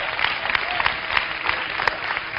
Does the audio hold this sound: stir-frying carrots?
no